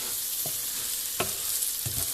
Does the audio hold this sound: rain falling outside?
no